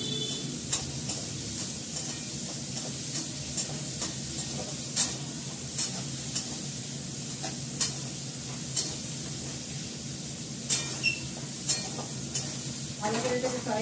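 Salted fish frying in a pan, a steady close sizzle and hiss with regular light scraping taps of a spatula stirring, continuing throughout with a faint voice now and then.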